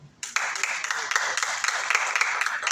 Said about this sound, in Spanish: Y ese aplauso para quién fue.